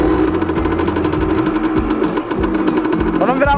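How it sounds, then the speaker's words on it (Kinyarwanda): A motorcycle engine starting and settling into a fast, throbbing idle with a knocking mechanical chatter, loud and close, rising slightly toward the end during a motorcycle category riding test. "Hano tugiye gukora demarage ya moto"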